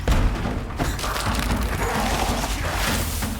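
Explosions from enemies in the video game Nightingale: a dense, loud burst of booming blasts and thuds, sustained and rumbling throughout with no speech.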